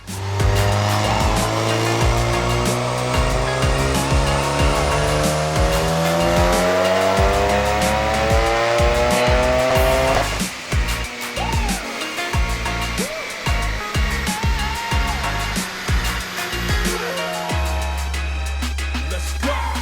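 An Audi RS3 engine revs hard on a chassis dyno and climbs steadily in pitch, roaring loudly under load, then drops off and settles to a lower rumble near the end.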